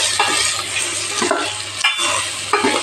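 Vegetables sauté in oil for a chickpea (chana) gravy, with a steady close sizzle and bursts of spatula scraping and stirring that come in short waves.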